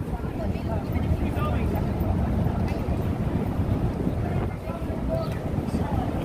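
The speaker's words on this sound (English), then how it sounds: "it's also a little windy" Steady gusty wind roars into the microphone, a dense low rumble that never lets up for the whole stretch.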